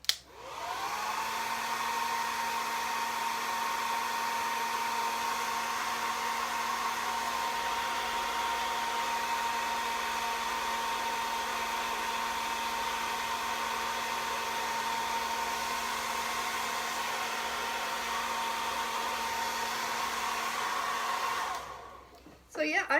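A hair dryer blows wet paint dry in the corners of a thrift-store item: a loud, steady whirring hum that runs unbroken for about twenty seconds before cutting off.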